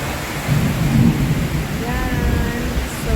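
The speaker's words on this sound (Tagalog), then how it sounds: "You can hear the lightning." Low rumbling thunder during a rainstorm, loud and close, swelling over a few seconds with a wash of rain noise and faint tonal sounds in the background.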